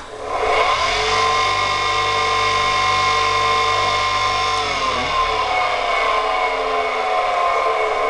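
A homemade grinding machine spins up and runs, a loud steady motor whine with strong tonal harmonics that sags in pitch briefly midway, then continues evenly close by.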